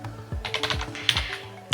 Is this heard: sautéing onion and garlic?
no